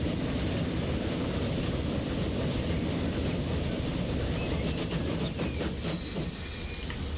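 A train rolling into a station in the Transport Fever video game, with a steady rumble of wheels on rails and a faint high squeal of wheels toward the end, continuous and fairly loud with no speech.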